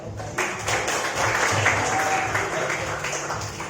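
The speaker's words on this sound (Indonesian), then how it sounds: "Silakan bisa maju ke depan atau mungkin beri tepuk tangan ya." Classroom applause for a student, a moderate burst of clapping from a group that holds fairly steady, with faint voices mixed underneath.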